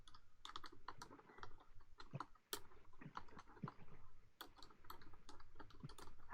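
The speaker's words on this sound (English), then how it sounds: "I hate typing live." Someone types quickly on a computer keyboard, and irregular bursts of quiet, close key clicks run steadily with brief pauses. No one speaks.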